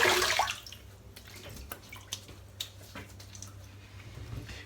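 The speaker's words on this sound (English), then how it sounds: "Well, that was a good splash of water." Water splashes briefly at the start, then trickles and drips softly nearby with small wet squishes over a low background hum.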